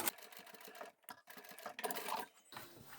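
A sewing machine stitches fabric pieces for a hexagon placemat in short, quiet bursts of rapid mechanical clatter, separated by brief pauses.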